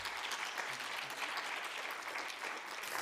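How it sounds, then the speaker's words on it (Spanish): An audience applauds speakers at a talk event, a steady, fairly quiet wash of many hands clapping that holds evenly for a few seconds with no voices. "Un aplauso para ellos."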